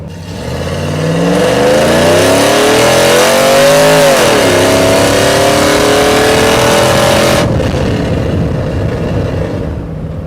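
A Chevrolet Silverado truck with a cammed 5.3L V8 and longtube headers revs hard and accelerates, its loud engine note climbing through the rpm, dipping briefly at a shift, then climbing again before easing off.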